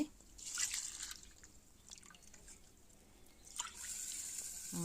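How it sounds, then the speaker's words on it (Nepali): Rice is rinsed in water for restaurant-style veg fried rice, with quiet close swishes, drips and trickles coming in a few short bursts between soft pauses. "अब चामल चाहिँ पखाल्नुपर्छ, 2-3 पानी पखाल्नुपर्छ"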